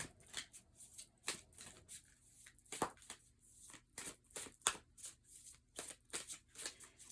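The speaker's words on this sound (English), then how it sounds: "Just giving them a little pre-shuffle." A deck of cards is shuffled by hand in a quiet room, a rapid series of soft, crisp riffles and slaps coming in irregular bursts, close and fairly faint, with no talking.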